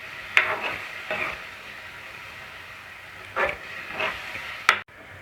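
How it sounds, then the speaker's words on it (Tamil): Tomato paste being sautéed in a pan for ginger chicken curry, with a steady close sizzle and several stirring scrapes of a spoon through the paste. "தக்காளி பேஸ்ட்டு நல்லா பச்சை வாடை போகிற வரைக்கும் வதக்கி விட்டுட்டே இருங்க"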